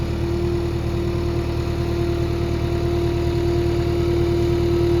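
A skid loader engine idles close by, with a steady, loud rumble and a constant tonal hum that runs unbroken throughout.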